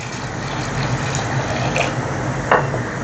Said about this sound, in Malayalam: എന്നിട്ട് ഇതിലേക്ക് വെള്ളം ഒഴിച്ചു കൊടുക്കാം.